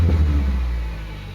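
A Toyota Celica with a 1ZZ-FE engine revs close by with a strong low growl, then the engine note gradually falls away over about a second.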